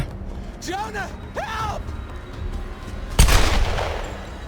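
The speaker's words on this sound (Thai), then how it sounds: "มีเสียงปืน" A sharp, loud burst of gunfire erupts near the end of Tomb Raider gameplay, following a stretch of electronic tones and a low, steady game-like background.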